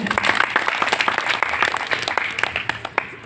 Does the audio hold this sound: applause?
yes